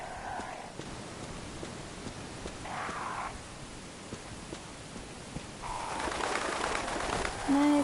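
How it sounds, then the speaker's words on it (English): Birds coo softly in short bursts in the Resident Evil video game, separated by pauses over a low ambient hiss, growing a little louder near the end. "No, it's just birds."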